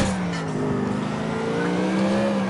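Cars drive in the video game GTA 4, with a continuous engine drone whose pitch slowly rises and falls through traffic, loud and steady without speech.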